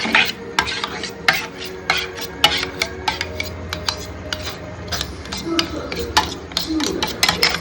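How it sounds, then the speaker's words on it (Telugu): Two eggs with pepper powder and salt being beaten in a bowl, a quick irregular run of clinking utensil strikes against the dish, close and fairly loud. "2 గుడ్లు, మూకిట, 2 గుడ్లు, మిరియాల పొడి, ఉప్పు బాగా కలుపుకునేసి"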